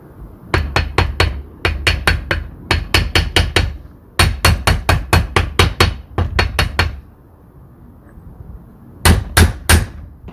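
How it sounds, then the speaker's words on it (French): A small mallet taps on a pump part from a Yanmar 3JH4E marine engine in a steady run of sharp, close strikes. The taps come in quick groups of five to eight, separated by short pauses, with no talking. "Le petit maillet."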